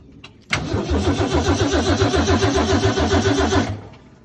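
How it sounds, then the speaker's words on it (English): A 1965 Ford Mustang's rebuilt 200 inline-six engine cranks with a fast rhythmic chugging for about three seconds, loud and close, then catches briefly and cuts off. "All right, cranking."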